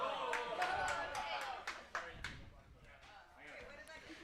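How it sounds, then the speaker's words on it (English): A crowd in a curling club warm room cheers and claps, with scattered sharp hand claps over a murmur of raised voices, fairly close and moderately loud. "There was a huge cheering from the crowd"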